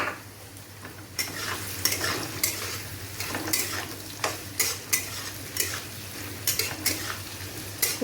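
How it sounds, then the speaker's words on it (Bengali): Steady sizzling of onions frying in a pan, with repeated stirring scrapes and clinks of a utensil against the pan, close up and no talking. "পেঁয়াজটা একটু ভেজে নেবো"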